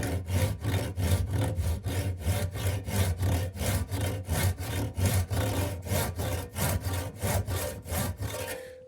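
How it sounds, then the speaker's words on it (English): A hand saw cuts a slit down the middle of a piece clamped in a vise, with a steady back-and-forth rhythm of rasping strokes, close and even, ending in a brief pause. "we're just going to cut a slit here right down the middle for this."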